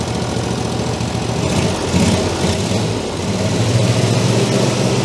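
A GreenMech CS100 wood chipper engine runs continuously nearby, a rough, steady mechanical drone with a slight rise in revs midway and a constant, knocking rumble throughout.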